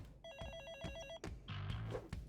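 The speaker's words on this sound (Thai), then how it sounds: "โทรศัพท์รับสิเพื่อน" A telephone rings with a bright electronic trill, pausing between bursts, amid room noise and soft background sounds at moderate level.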